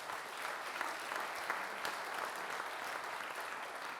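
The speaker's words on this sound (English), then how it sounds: "let's give him a big round of applause to make him feel welcome." Steady audience applause, a continuous wash of clapping that sounds distant and soft, as in a staged roleplay welcome, without voices over it.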